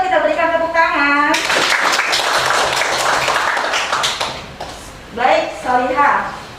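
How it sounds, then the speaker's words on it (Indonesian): A school class applauds in a classroom, with a dense burst of many hands clapping together for about three seconds. A teacher's voice comes just before and again after the applause. "Oke, terima kasih kepada DIBA, kita berikan tepuk tangan."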